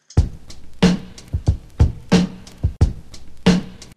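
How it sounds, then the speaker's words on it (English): A punchy drum loop plays alone, with deep kicks and sharp snare hits in a steady repeating rhythm, loud and close. "We have a drum loop here"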